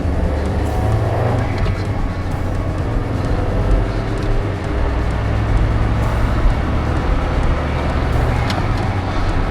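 A 1987 VW Passat 1.6 LSE on the move, its engine giving a steady, close in-cabin drone with road noise and gentle rises and falls in pitch as it drives.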